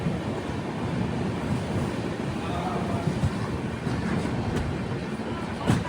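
Himsagar Express pulling out of Pathankot station, Punjab, on a cold winter day: a steady, rumbling wash of rolling wheels and carriage noise heard close from on board, continuous and even throughout with no clear talk.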